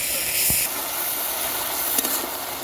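Spices frying in hot oil in a pan for Bengali tel koi fish curry give a steady, loud hiss with a few brief clicks and spits, heard alone.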